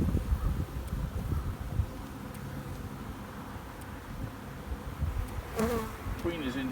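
Honeybees buzzing around an opened hive while overwintered nucs are installed, a dense continuous hum of many bees close by, with a few louder passes near the mic and faint rustling, no talk.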